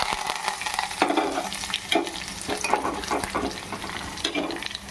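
Curry leaves and crushed garlic crackle and sizzle in hot oil while tempering Andhra-style gongura pappu, a steady busy frying hiss with occasional stirring scrapes, close and fairly loud, no talking.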